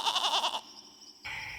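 Goat bleating in a folktale, a couple of wavering nasal cries up close, a short pause, then another bleat starting, with no talking.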